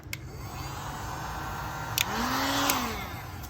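A heat gun blows steadily over curved vinyl wrap as it shrinks, giving a constant close whooshing hum with a faint pitch shift midway and a couple of brief clicks.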